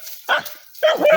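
Two sharp, close barks from a dog fighting a cobra, separated by a brief pause, loud and agitated.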